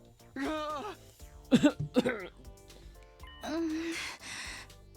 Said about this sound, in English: Takumi, are you alright? What's with all the coughing?